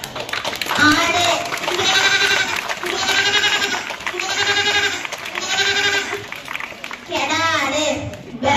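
A voice imitates a goat, giving a string of loud, quavering bleats in quick succession, close and continuous with only short breaks between calls.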